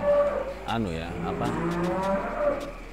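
Cattle mooing in a livestock transit pen, resting after being trucked in from a cattle market; several drawn-out moos overlap at close range over a steady background murmur.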